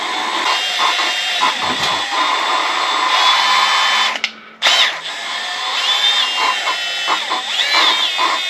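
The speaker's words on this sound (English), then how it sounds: "I'll just change the directions of the drill" A power drill runs steadily while turning the engine of a Kawasaki Lakota ATV that will not start, a loud continuous whine that cuts out briefly midway as the direction is switched, then resumes.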